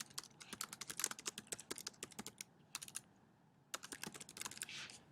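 Keys clatter on a computer keyboard as text is entered into a PowerPoint slide: quick, faint, close-up bursts of keystrokes broken by short pauses, with no voices.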